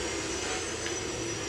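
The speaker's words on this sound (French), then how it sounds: "Super, j'ai un avion gratuit." An airplane engine in the video game Just Cause 2 roars as a steady, loud jet-like drone with a faint whine, continuous and unbroken for the short stretch, with no talk over it.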